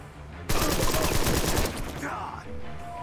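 A burst of gunfire in the Empire of Sin video game: a loud, rapid string of shots rings out for about a second after a quieter start, then fades into a softer tail.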